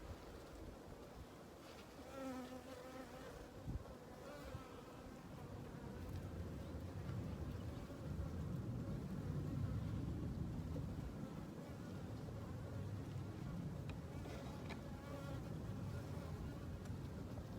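Many bees buzz around beehive boxes with lots of drones, a dense continuous insect hum that swells through the middle and holds steady, faint and diffuse with light wind noise.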